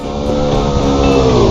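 A motorcycle engine in the video game PUBG drones loud and close, a steady rough buzzing roar that rises slightly in pitch as it revs.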